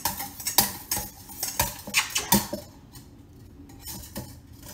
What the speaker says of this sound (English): let's whisk your egg